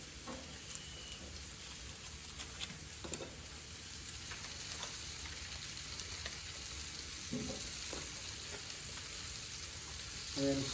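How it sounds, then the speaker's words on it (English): A bunch of mushrooms and half a stick of butter fry on a grill with a quiet, continuous sizzle and crackle, plus occasional soft stirring ticks. "last thing on the grill, a bunch of mushrooms, half a stick of butter,"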